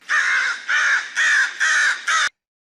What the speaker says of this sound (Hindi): कौवा उड़ता हुआ चला गया